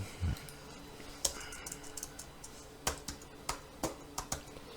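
Computer keyboard typing at a desk, a few soft, quiet, irregular key clicks spread over several seconds against a faint room background, with no talking.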